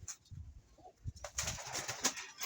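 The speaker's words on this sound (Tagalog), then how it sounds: "Bili natin ng ibon na to." A pigeon coos in soft low bursts, first quiet and spaced, then joined by brighter bird calls and fluttering noise as it grows louder and busier.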